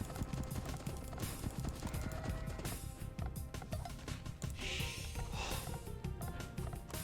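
Steady clip-clop of many scout cavalry hooves in Age of Empires 2, dense and continuous, with a faint snort or whinny mixed in and a busy background bed of game sounds.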